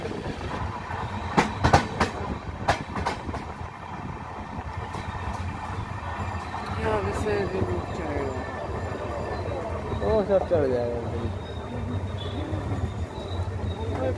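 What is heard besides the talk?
passenger train running after leaving Raniganj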